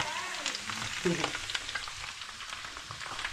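Potatoes and cutlets frying in a home kitchen pan, a steady close sizzle and crackle with faint stirring clatter, no talking.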